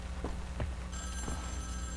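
A telephone rings in the Wolfenstein video game, a bright repeating ring that starts partway through over low game ambience, with short thuds beneath it.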